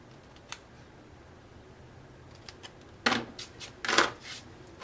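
Scissors snip paper flag shapes for a handmade card, a few faint clicks followed by two louder, close cutting crunches.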